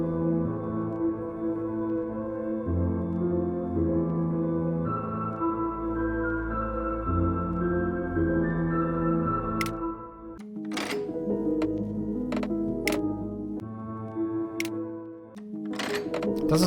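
Closing credits theme music for a point-and-click game plays steadily with layered sustained tones. Later it turns sparser, with sharp percussive accents ticking through it, and no one speaks.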